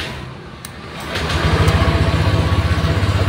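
A 2023 Honda Vario 125 scooter engine cranks and catches after a quiet moment, then settles into a close, steady, pulsing idle.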